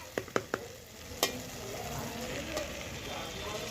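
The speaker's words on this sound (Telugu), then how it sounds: "ఇప్పుడు ఇందులోని టమాటాలు వేసుకోవాలి" Eggplant and tomato curry frying in a pan, with a steady close sizzle and a few sharp clacks of a utensil against the pan near the start.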